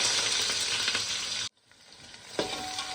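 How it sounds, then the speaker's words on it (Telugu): Onions, chilies, cinnamon, cardamom, cloves and mint fry in oil and ghee for Nellore mutton biryani, making a loud, dense sizzle. It cuts out abruptly halfway, then returns more quietly with a scrape of stirring. "మసాలాలన్నీ బాగా ఎర్రగా వేగాలి"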